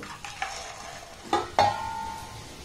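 Sweets of flour and flattened rice fry in hot oil, a steady soft sizzle broken by a few sharp stirring scrapes and clinks, close and fairly quiet.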